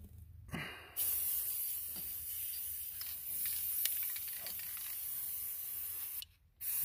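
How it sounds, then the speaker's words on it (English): A continuous hiss of a Krylon aerosol spray paint can coating a metal fence post, steady and close for several seconds, stopping briefly before resuming at the end. "where you spray paint this on your metal fence post"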